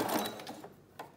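Sewing machine running a straight stitch along a paper label for a junk journal, a short close whirring burst that fades, followed by a single brief mechanical clack.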